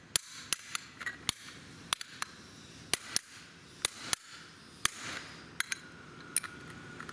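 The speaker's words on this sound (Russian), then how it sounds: "Пробиваем молотком для того, чтобы сильно глубоко не утопить его" Hammer tapping a washer onto the kingpin of a MAN F-90 truck, a series of sharp metallic strikes at irregular intervals, close and distinct over a quiet workshop background.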